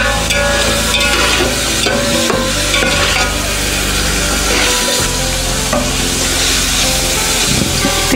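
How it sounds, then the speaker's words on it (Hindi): Beef boti pieces fry and are stirred in a pot for Peshawari beef yakhni pulao, giving a loud, steady, close sizzle with repeated scraping stir strokes and no talking. "अब बोटियों को हम भून लेते हैं 1 से 2 मिनट।"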